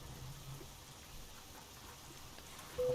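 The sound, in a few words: rain falling in Euro Truck Simulator 2 video game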